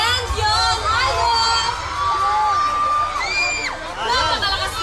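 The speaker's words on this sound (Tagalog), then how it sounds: "Napakalakas ng sigawan naman ang mga supporters ng housemates." Supporters of reality-show housemates cheer and scream loudly on a live stage, with high shrill whoops and shouts rising over a roaring crowd, while an announcer talks through it.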